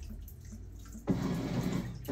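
A Maytag MVWC565FW2 top-load washing machine set to deep water and power wash starts filling, water suddenly gushing loudly into the tub after a second of quiet hum, steady and close.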